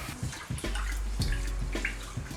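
Short grain rice is rinsed briefly in water, giving close splashing and sloshing with a low rumble of running water, moderately quiet and continuous over a few seconds.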